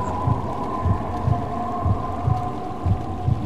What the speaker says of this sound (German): Ihr könnt bestimmt den Herzschlag hören.